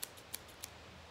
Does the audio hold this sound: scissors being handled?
yes